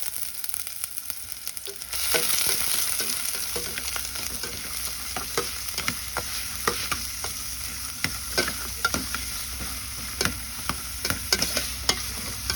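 Onion, garlic and ginger sizzle in a hot pan with steady frying crackle, and sharp scraping clicks from stirring recur throughout. The sizzle swells loudly after a quieter start, and no one speaks.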